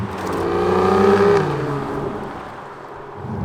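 An Aston Martin V12 engine revs while driving, swelling to a loud, rising howl near the middle, then easing off into a lower, steady drone before building again.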